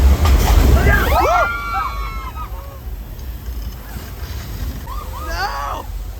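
A heavy rush of splashing water hits at the start of a theme park ride at Universal Studios Hollywood, followed by excited shrieks and voices as the sloshing fades into background noise.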